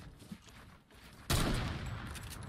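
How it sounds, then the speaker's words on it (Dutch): A single sharp video game gunshot bursts out loudly after a quieter stretch of low rumble, then decays into a lingering noisy tail. "Die ging helemaal naar Afrika, dat schot"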